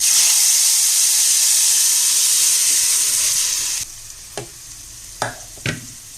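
Loud steady sizzling of a frying pan with butter and minced garlic, which drops sharply as tomato juice is poured in, followed by a few brief scraping stirs against a quieter simmer.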